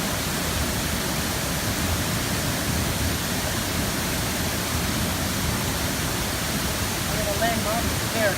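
A waterfall roars as a steady, loud, broadband rush of falling water, unbroken throughout, heard from close by on a day trip.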